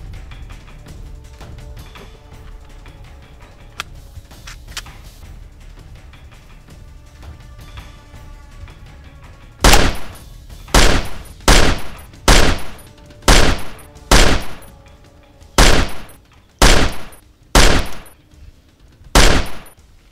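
Ten sharp, loud gunshots crack out one by one at a shooting practice, spaced about a second apart, each with a short echoing tail, after a quiet stretch of faint background noise.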